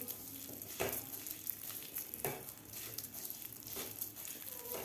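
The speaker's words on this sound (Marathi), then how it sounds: "3 ते 4 मिनिट आपल्याला हे तांदूळ व्यवस्थित भाजून घ्यायचे आहेत तुपामध्ये।" Rice grains roast in ghee over medium heat for kheer, giving a steady crackling sizzle with a few louder scraping stir strokes, close and alone.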